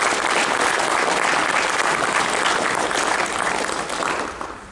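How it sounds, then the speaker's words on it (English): A Scout audience at an Eagle ceremony gives the adult leaders sustained, dense applause that holds steady for several seconds, then starts to thin toward the end. "I think we should all give the adult leaders a round of applause"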